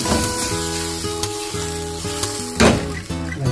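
Squid adobo with brown sugar and chili sizzles steadily in a pan while being stirred, with scraping utensil strokes close by and no talking.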